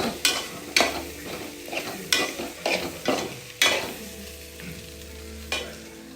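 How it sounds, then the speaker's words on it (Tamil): Fried rice with soy sauce and chilli gets stir-fried in a pan: loud, rhythmic spatula scrapes and clanks land every second or so over a constant sizzle, with no one talking. "இப்போ வந்து நல்லா கிளறி விடலாம்."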